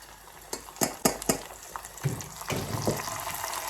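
Cumin and green chilies are stirred into browned onions for Punjabi-style masoor dal, with several sharp spoon-on-pot clinks early and then a soft, continuous sizzle and scraping, close by, with no voices.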